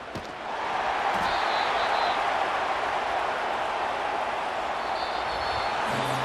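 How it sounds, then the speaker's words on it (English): Home crowd applauding in Madden NFL 25 after a Falcons vs Eagles game, a steady, dense wash of clapping and cheering that holds evenly throughout at moderate loudness. "And the home crowd applauding."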